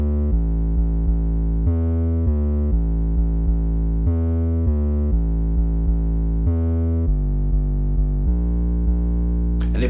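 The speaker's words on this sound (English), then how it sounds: "But yeah, the 808 bass line ended up sounding like this." Distorted 808 bass line for a beat, sustained booming notes with a gritty edge changing pitch in a steady pattern, loud and alone.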